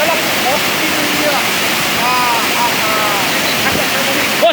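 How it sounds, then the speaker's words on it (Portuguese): A waterfall in Brazil roars as a dense, constant wash of rushing water, loud and close throughout, with voices faintly talking over it. "É uma cachoeira que vai..."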